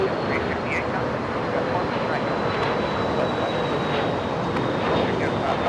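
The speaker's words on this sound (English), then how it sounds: "767 FedEx freighter from Memphis" A FedEx 767 freighter from Memphis touches down at LAX, a loud, steady jet roar with broadband engine noise filling the scene from start to finish, with people talking beneath it.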